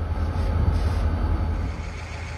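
Low, steady rumble of a heavy MBTA work train engine moving slowly at walking pace nearby, with a constant hum and faint rattling over a couple of seconds.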